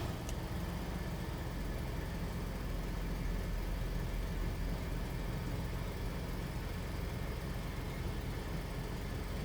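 A Jeep engine idles steadily while the vehicle backs out, a continuous low rumble with a smooth, unbroken drone throughout.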